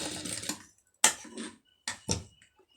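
A sewing machine stitches a silk-border neckline in a few short bursts, each a quick rattling run of needle strokes separated by brief pauses, close and fairly quiet.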